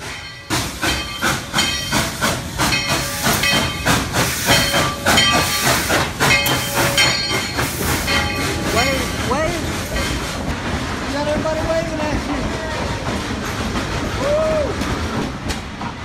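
An amusement park steam train passes close by with rhythmic chuffing bursts and hissing steam, its wheels clattering as it fades, with people talking and cheering over it.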